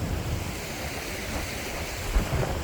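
Meltwater rushes down a small, normally dry creek after a big thaw, a steady broadband wash of flowing water mixed with wind buffeting the microphone, constant and fairly loud with no voices.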